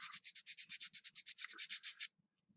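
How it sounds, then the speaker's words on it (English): Sandpaper scrubbing over a guitar's tone knob in quick, even back-and-forth strokes, about sixteen bright raspy passes close to the mic, then stopping. "So you just rough it up with the sandpaper over the numbers."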